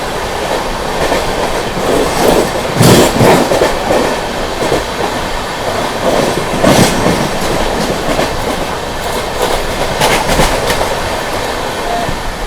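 Tamil Nadu Superfast Express from New Delhi to MGR Chennai Central running at speed, a loud continuous roar of carriages with rhythmic clickety-clack wheel beats over rail joints, heard close from a moving train.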